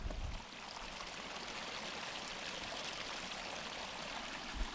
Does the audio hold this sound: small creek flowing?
yes